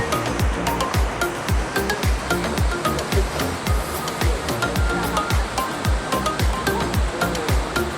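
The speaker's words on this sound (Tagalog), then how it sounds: "Ay, ang ganda ng waterfalls dito." A waterfall at Wulai in Taiwan pours in a steady, loud, broadband rush with no pauses, the churning water filling the whole scene with no voices.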